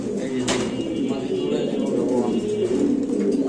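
A caged pigeon coos in soft repeated low throaty calls close by, mixed with background murmur and faint talking, among grizzle dragon pigeons kept for sale.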